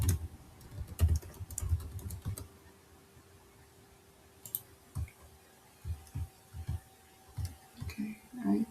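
Typing on a computer keyboard, quick bursts of close key clicks and taps with a pause in the middle, then scattered single keystrokes resuming.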